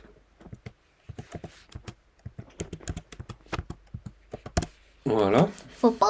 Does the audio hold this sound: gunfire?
no